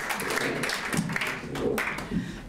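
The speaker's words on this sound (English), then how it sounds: "a big round of applause" An audience at a SACPA community public-affairs gathering in Alberta gives a speaker a round of applause: a soft, diffuse patter of many hands heard from a distance, continuous and fairly faint.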